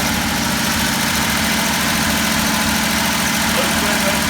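An old motor engine idles steadily once its choke has kicked off, a close, continuous low rumble with a regular throbbing pulse and constant vibration throughout.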